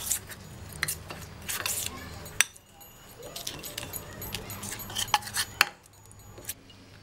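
Face wash powder paste being mixed with water in a bowl: a steady run of metallic scraping and jingly clinks from a utensil against the bowl, close by, with brief pauses and several sharper taps.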